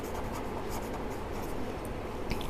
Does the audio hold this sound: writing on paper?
yes